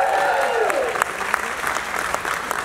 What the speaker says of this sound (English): Thank you for that huge round of applause